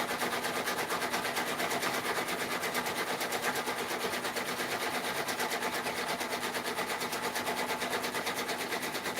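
A multi-needle embroidery machine stitches steadily at close range, a fast, even rapid-fire rattle with a constant mechanical hum running unbroken throughout.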